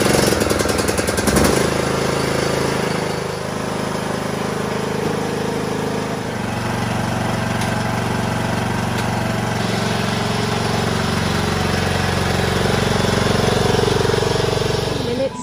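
A John Deere LA125 lawn tractor's Briggs and Stratton engine with a blown head gasket runs loud and continuously nearby, a steady rough drone with uneven knocking pulses throughout.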